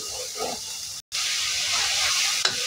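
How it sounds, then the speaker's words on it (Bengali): Rice is sautéed in spice paste for khichuri, giving a steady, close sizzle and hiss. There is a brief dropout near the start and a small stirring knock near the end. "এর মধ্যে চালটা দিয়ে কষাবো।"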